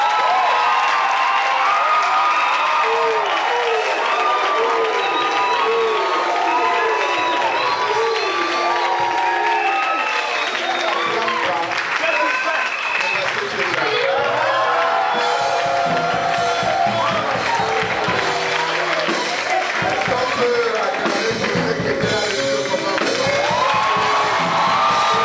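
A congregation at a Christian conference in a church hall applauds and cheers loudly. Whoops, shouts and overlapping voices run over steady clapping for a long, sustained stretch.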